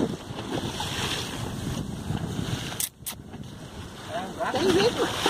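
Wind blows across a microphone aboard a boat on open water, a steady rushing roar with waves beneath, briefly dropping out before building again; someone speaks over it.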